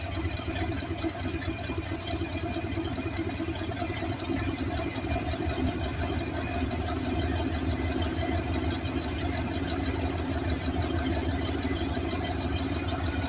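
A steady engine idle after water in the carburetor, a low, even rumble and a constant mechanical whir, running unbroken throughout with no voices.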